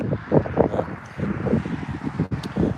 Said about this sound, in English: It is kind of windy today